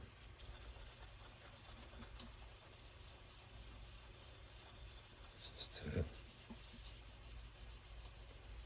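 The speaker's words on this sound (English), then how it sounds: "I'm just gonna rub down this neck a little bit." Steady, soft rubbing and rasping as a ukulele neck is rubbed down by hand during rag finishing, quiet and continuous with a slightly louder scuff near the end.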